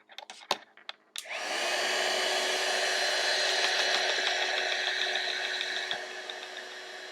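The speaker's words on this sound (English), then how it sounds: "I need that to dry faster than it's drying, so heat gun." A heat gun blows hot air onto wet paint, starting after a few brief knocks and clicks and holding as a steady, loud, close whoosh with a fixed whine before easing slightly near the end.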